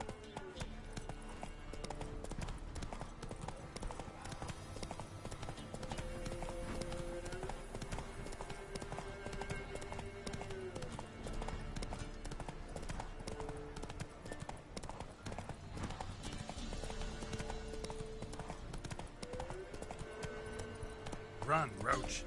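Roach the horse gallops in The Witcher 3, a steady rapid clip-clop of hooves running throughout over music and game sounds, with voices talking at times.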